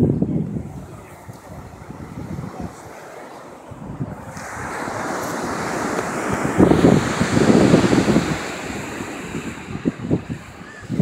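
Ocean waves wash up on a beach in a loud, surging roar that swells and breaks repeatedly, with gusty wind buffeting the microphone throughout.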